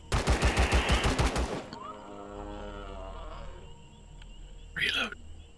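Rapid bursts of assault rifle fire from the space survival game Empyrion rattle loudly for over a second, then give way to quieter game sounds and a brief sharp burst near the end; someone talks over parts of it.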